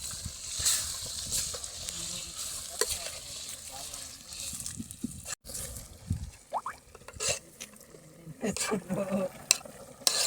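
Telangana bagara rice with added chicken being stirred in a pot, soft scraping and shuffling strokes with a gentle sizzle beneath, fairly quiet and irregular, with a voice speaking briefly.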